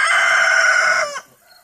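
A backyard rooster gives one loud, close crow lasting about a second, its strained call trailing off abruptly into near silence.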